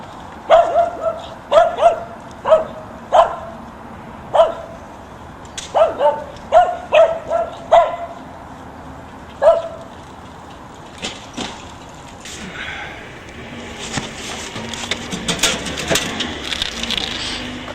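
Several dogs bark in sharp, irregular bursts, some yelps in between, followed by a busier stretch of scuffling and clattering noise near the end.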